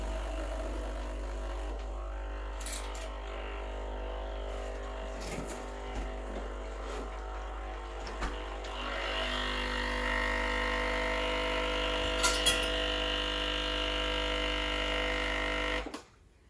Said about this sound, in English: So I'm going to press the double button. This will warm up all the components